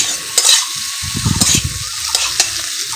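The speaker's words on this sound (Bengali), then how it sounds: "সব মশলাপত্র দিয়ে এটাকে আমি ভালো করে নাড়াচাড়া করবো ভালো করে কষিয়ে নেব" Paneer curry with spices stirred and fried in a pan, with a steady close sizzle broken by several sharp scraping stirs of a spoon against the pan across three seconds.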